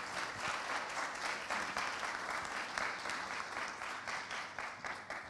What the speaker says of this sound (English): Let's give our ladies a round of applause.